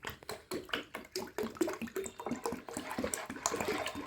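Water poured steadily into a homemade lemon-scented liquid soap mixture, about 2.5 liters added, with a continuous splashing gush and irregular gurgles, close and moderately loud, no talking.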